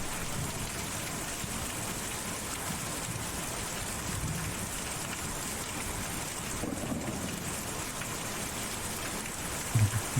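Steady, dense rainfall in the video game Kentucky Route Zero, a constant even hiss across the whole stretch with a faint low rumble beneath, no voices.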